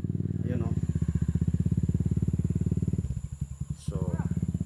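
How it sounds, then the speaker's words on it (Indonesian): Motorcycles climb a very steep mountain road in Catmon, Silago, Southern Leyte, their engines chugging loud and close with a steady throb that dips briefly and then picks up again, while voices call out over the engine noise. "Gamit ang aming mga motor."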